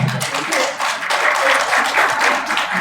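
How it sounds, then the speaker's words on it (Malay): An audience claps for Cik Faizal at an evening company event in Penang, a full burst of dense applause that holds steady near and loud throughout. "Satu tepuk tangan untuk Cik Faizal"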